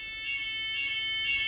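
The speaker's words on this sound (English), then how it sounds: "Does anyone know what fire alarms sound like in France? Is this a fire?" A fire alarm in France sounds continuously, a loud, piercing electronic tone that holds steady with slight pulsing throughout, with no voices present.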